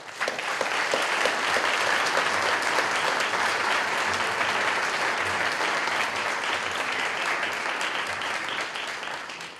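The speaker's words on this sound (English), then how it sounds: "I think we need to give our representatives another round of applause." Sustained audience applause fills a hall at an MLK Day celebration, a dense steady clatter of many hands clapping at close range for nearly ten seconds, fading slightly at the end with no talk over it.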